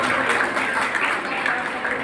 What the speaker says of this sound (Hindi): डॉक्टर सोनाली जी के लिए जोरदार तालियां बजाएं।